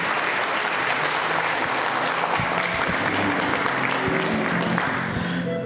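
Sustained applause fills a church congregation, dense steady clapping from many hands held at an even level throughout without any voices standing out.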